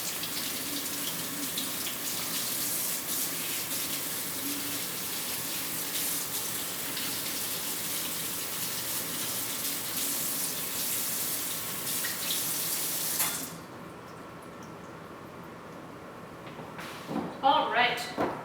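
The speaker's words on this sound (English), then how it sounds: "running it under cold water and giving it a scrub with your hands" Cold tap water runs steadily into a sink while vegetables are scrubbed by hand, a constant broadband rush that cuts off abruptly near the end, followed by brief clattering handling sounds.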